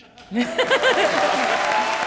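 A studio audience on a comedy show bursts into applause after a short quiet moment, the clapping holding steady to the end, with a voice speaking over it.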